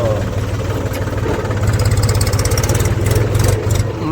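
A tractor engine idles outdoors at a soil-moving site, a steady close-up chugging rumble with a rapid pulsing beat that grows slightly stronger toward the end.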